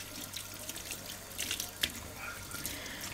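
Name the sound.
washing groceries after soaking them in soapy water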